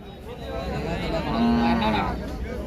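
A cow moos in a long, low call amid a busy outdoor crowd murmur at the Pebbair Saturday cattle market, with people talking faintly in the background.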